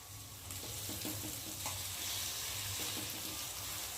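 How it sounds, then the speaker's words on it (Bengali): Boiled chowmein noodles being tossed and stirred in a hot pan, a constant soft sizzle with low rhythmic scraping and shuffling of the noodles. "দিয়ে একটু ভালো করে নেড়ে দেবো"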